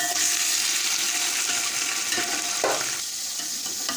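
Chicken, 1.5 kilos of it, frying in oil with browned onions for chicken pulao, giving a dense, steady sizzle with occasional stirring scrapes.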